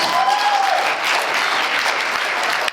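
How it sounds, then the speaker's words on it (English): An audience at a Georgia 3rd Congressional District candidate forum applauds its delegates, a steady, loud wash of many hands clapping throughout, with a brief whistle-like tone near the start. "let's give a big round of applause to our delegates from the 3rd Congressional"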